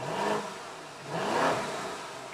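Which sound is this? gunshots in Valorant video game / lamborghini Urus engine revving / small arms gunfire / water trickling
lamborghini Urus engine revving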